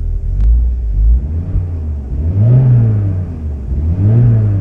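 A supercharged 1990 Volkswagen Corrado G60 1.8 engine with an aftermarket muffler idles with a deep rumble, then revs up twice in slow swells, each climb easing back down; loud and close, no talking.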